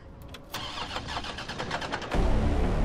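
In Resident Evil 3 Remake, a car engine cranks with rapid, stuttering turnover and then catches into a loud, steady running roar, close and alone without talk.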